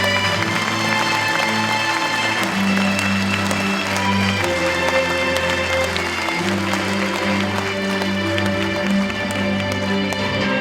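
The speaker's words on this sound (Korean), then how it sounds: "여러분 큰 박수 부탁드립니다." At a university presidential inauguration ceremony, a school flag is handed over to loud, sustained audience applause. Steady ceremonial music with held tones plays alongside the clapping for the whole stretch.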